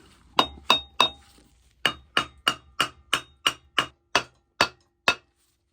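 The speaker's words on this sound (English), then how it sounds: "hit it to the side, break the seal that way." Sharp metallic hammer strikes ring out one after another on a Mazda 12A rotary engine part to break its seal, about a dozen hard blows with a short pause early on, close and loud.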